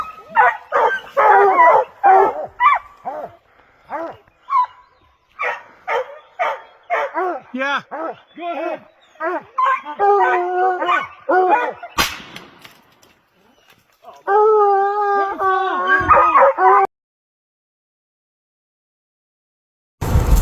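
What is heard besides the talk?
hunting hounds barking and howling on bear hunt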